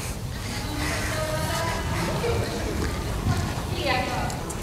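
A horse walking at the start of a show-jumping training session, soft rhythmic hoofbeats on arena footing heard beneath continuous speech from a rider.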